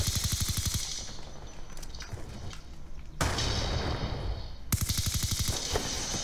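Rapid automatic gunfire in a first-person shooter game comes in three loud, close bursts of evenly spaced shots, separated by short stretches of quieter background noise.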